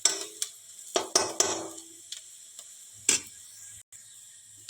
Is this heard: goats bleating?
no